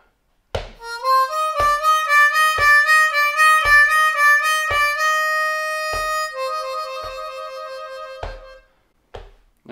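A Bb diatonic harmonica plays a blues lick, with a string of bright, rhythmic reedy notes, a sustained stretch, then a few short detached notes at the end, loud and alone.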